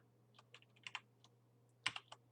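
Computer keyboard typing, a scattered series of soft, close key clicks with irregular pauses and a brief flurry near the end, over a low steady hum.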